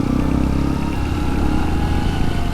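A second-hand motorcycle engine running at a steady, loud, close idle with mechanical clatter, alone without talk.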